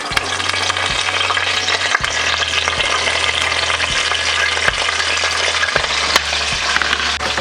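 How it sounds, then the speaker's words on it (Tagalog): String beans sauté in hot cooking oil for a beef, string bean and squash dish, a loud continuous sizzle punctuated by regular scraping stir knocks and a low steady hum, no speech. "Pwede na po nating igisa itong ating sitaw."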